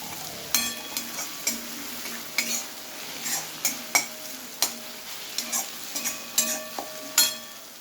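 Red chili powder, garam masala and coriander-cumin powder are stirred into a pan for a Gujarati spinach dish. A spoon scrapes and clicks against the pan in uneven strokes over a soft sizzle.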